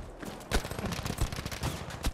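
Rapid bursts of light machine gun fire from a BAR M1918A2 fitted with AA sights in Battlefield 5 multiplayer, sharp close shots in quick repeated volleys with no talk over them.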